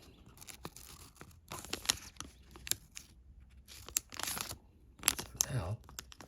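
Scissors cut a paper number up close, making irregular crisp snips and papery rustles in short bursts, with a voice talking quietly at times.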